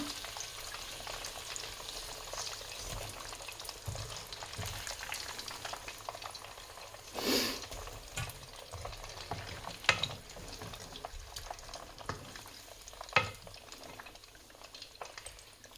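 Chicken nuggets fry in oil in a pan with a steady, dense crackle and sizzle, interrupted by a few louder bursts as pieces are stirred or moved.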